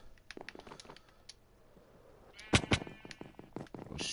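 Sheep bleating inside a shack in a PS4 video game, a few short bleats arriving as a loud burst in the second half, with faint game sounds scattered around them.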